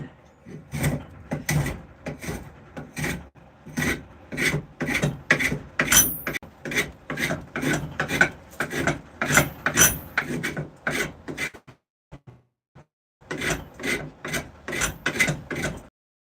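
A hand rasp shapes a wooden spoon in steady back-and-forth strokes, loud and close, with a brief pause before the rasping resumes.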